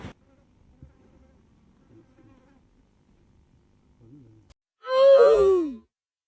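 A single loud bee-like buzz, falling in pitch, sounds close for about a second after a long near-silent stretch.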